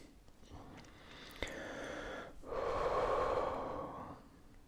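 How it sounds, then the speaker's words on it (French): One slow, deep breath drawn in and then released in a long airy exhale, close and soft in an intimate ASMR setting, with no speech. "Et respire profondément."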